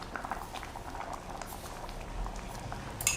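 A pot of curried whole lentil soup simmers on low heat under a lid, giving a soft, steady bubbling patter with faint gurgles, close and quiet, ending in a brief sharp clink.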